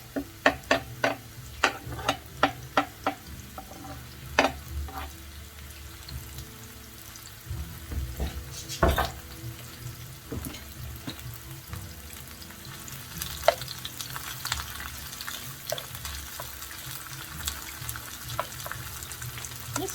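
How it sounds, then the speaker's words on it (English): Onions fry in hot olive oil in a skillet with a steady close sizzle, broken by sharp clicks and scrapes of stirring, and no voices. "Got my olive oil in the skillet. It's nice and hot."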